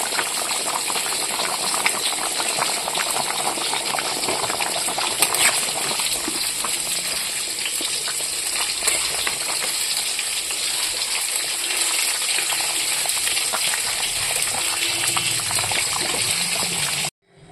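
Chicken curry that has been sautéed until the oil separates bubbles steadily in a pot, a continuous close hiss and burble with faint rattling that runs unbroken and then stops abruptly at the end.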